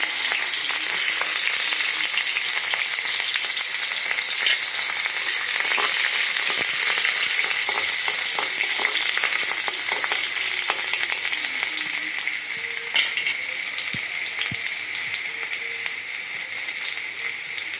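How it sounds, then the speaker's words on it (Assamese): Onions sizzle and crackle steadily in hot oil in a home kitchen, a dense, even hiss with scattered pops that stays loud and close throughout, no voices. "তেলখিনিত পিঁয়াজখিনি দি ল'লোঁ।"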